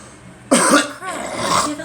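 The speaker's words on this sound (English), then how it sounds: "Just have a fucking cough still from this fucking stupid cold." A person coughs from a lingering cold, a harsh burst of two or three close coughs followed by rougher throat-clearing, loud and near.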